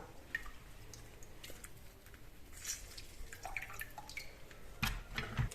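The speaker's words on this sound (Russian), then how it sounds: "процеживаем наш лавандовый настой" Lavender infusion being strained, with soft, irregular drips and splashes of liquid, quiet and close, ending in a slightly louder pour.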